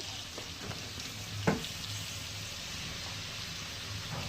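Panch phoron spices and bay leaves sizzling in hot oil, a continuous soft frying hiss with a single sharp crackle or pop, close and without talk.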